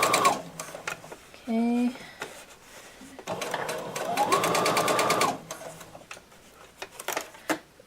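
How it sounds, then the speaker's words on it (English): A computerized sewing machine sewing in a zipper makes a short whirring run early on, then a longer stretch of rapid stitching, with clicks and handling sounds around it and a brief spoken word. "My machine is computerized, so it's set so that when I'm done sewing, the needle goes down automatically"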